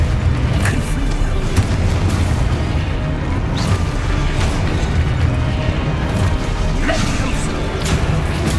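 Confringo fire spells explode over and over in Hogwarts Legacy as repeated booming blasts and crashes, loud and close, layered on dense game music and combat noise with no pauses between them.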